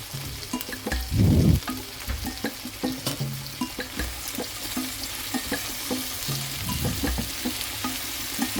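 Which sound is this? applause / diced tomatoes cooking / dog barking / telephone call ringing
diced tomatoes cooking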